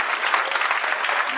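A crowd claps continuously at a Krishna Janmashtami celebration in a government school in Shivpuri, a dense, even wash of applause throughout the short moment.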